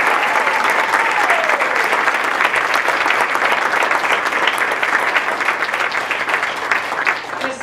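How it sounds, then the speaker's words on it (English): A warm round of applause for Kay Bolin O'Grady, named 2018 Valentine Lady in Loveland, with full, continuous clapping from a crowd sustained at a steady level, loud and fairly close, with a brief whistle-like tone early on. "if we could give Kay Bolin a nice round of applause"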